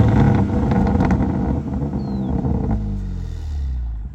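A warmed-up BMW M4 F82 engine runs steadily nearby with a deep, continuous rumble, idling and then settling lower toward the end.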